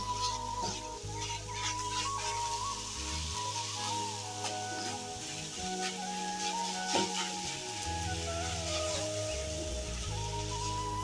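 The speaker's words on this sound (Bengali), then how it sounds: "এখন আবার ভালো করে নাড়িয়ে চাড়িয়ে নিচ্ছি" Radish and bori curry sizzles steadily in a frying pan while it is stirred, with scraping stir sounds over continuous hissing oil and no one talking.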